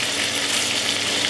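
Bacon strips sizzle and crackle steadily in a hot pan, a loud, dense hiss that carries evenly through the short stretch without any talk over it.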